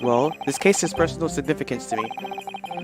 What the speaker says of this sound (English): I don't know if you guys can hear my phone, but it's going off a bit.